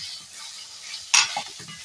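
Spices fry in a pan with a soft, steady sizzle, broken near the end by a sharp stirring scrape and a few clacks of a spoon against the pan.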